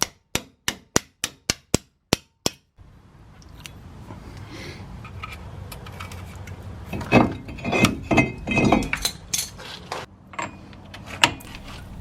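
A run of sharp metallic hammer strikes on a rusted-solid cotter pin at a Ford F-150 wheel hub rings out, evenly spaced at first, then gives way to scraping, clanking and scattered knocks against a noisy background.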